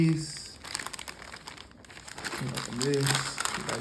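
Accessories for a XEGIS safe are unpacked from their packaging, with close plastic crinkling and rustling that comes in bursts while someone talks over it.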